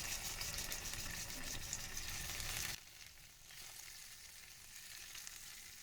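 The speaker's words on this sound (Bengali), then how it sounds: "তেলটা গরম হয়ে এসেছে, এখন আমি মাছগুলো দিয়ে দিই" Fish frying in hot oil in a pan gives a loud, dense sizzle that drops abruptly to a softer steady crackle partway through.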